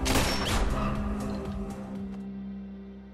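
A single loud, sharp sniper rifle crack right at the start, followed by a long rumbling echo that slowly fades out.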